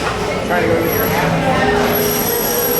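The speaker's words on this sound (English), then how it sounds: "the train will still be in motion" A Walt Disney World Railroad train rolling along in the evening, a steady loud rumble of wheels and carriage noise with a faint high ringing tone running through it.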